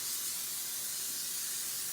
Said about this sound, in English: generously spray it with cooking spray.